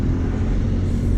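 A McLaren 600LT supercar drives along with a low, continuous engine rumble, a loud, steady drone heard from inside the car in a short stretch without talking.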